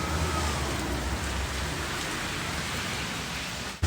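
Steady heavy rain pouring during a motorbike ride in the wet around Ubud, Bali, a dense constant hiss close around the rider with no voices, cut off abruptly at the end.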